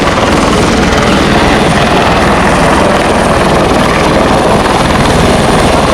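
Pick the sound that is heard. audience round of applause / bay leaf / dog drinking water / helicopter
helicopter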